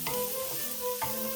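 Tofu frying in soy sauce in a pot, a close, steady sizzle with a couple of brief stirring scrapes and clinks.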